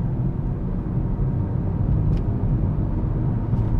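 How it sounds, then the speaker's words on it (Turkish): A Kia Rio sedan with a 1.4 CVVT 109 hp engine, carrying three people, accelerates at 3000 rpm, giving a steady loud low rumbling drone from inside the cabin with no talk. "3000 devirde hızlanma yapalım mesela."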